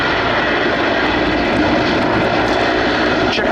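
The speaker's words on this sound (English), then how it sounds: "Mi-17 was given more powerful versions of the Klimov TV3 turboshaft engine" A Mil Mi-171 helicopter with Klimov turboshaft engines flies at an airshow, its loud, steady turbine roar continuous and close throughout.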